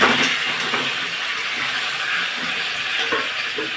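Meat frying in a pan with spices and ginger paste, a loud steady hiss and sizzle filling the whole stretch without pause, close and constant.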